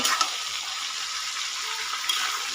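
Fish frying in a pan gives a steady, dense sizzle that runs throughout at moderate loudness, with a couple of sharper spits and pops, and no voices.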